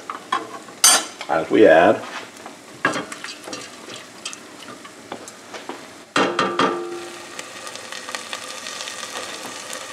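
Mushroom risotto stirred in a pan as liquid is added, with intermittent spoon scrapes and clinks over a faint sizzle and a brief burst of pouring, plus a few spoken words.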